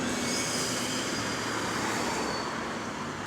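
Route 466 bus (AL HV56 and AL HV50 models) with a small exhaust leak idles with a steady, loud low-pitched engine drone and broad roar, close by and continuous throughout.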